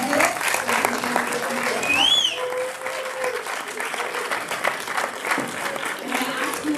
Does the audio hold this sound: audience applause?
yes